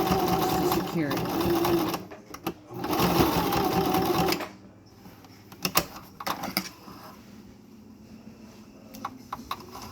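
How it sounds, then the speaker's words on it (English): A sewing machine stitches a zigzag back and forth on a fabric mask tie, running loud and close in two steady bursts, then falling to quieter clicks and handling noises afterward. "doing a zigzag stitch on the tie. And I'm going back and forth"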